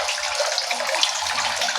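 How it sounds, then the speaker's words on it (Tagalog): Water is being changed in a crayfish pond, giving a steady, loud rush of running, splashing water that continues without a break. "Biglaan na lang ang palit natin ng tubig para masanay"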